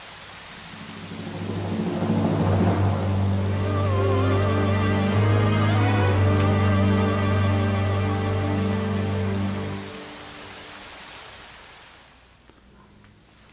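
Rain and thunder in The Legend of Zelda: Twilight Princess HD build into a loud, sustained rumble with a droning tonal layer, holding steady and then fading away toward the end.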